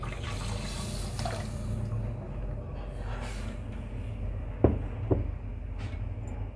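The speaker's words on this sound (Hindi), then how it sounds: "अब सारा दूध डाल दें इसमें।" Milk poured into semolina halwa in a pan, a steady liquid pour and gurgle throughout with a couple of sharp clinks near the end.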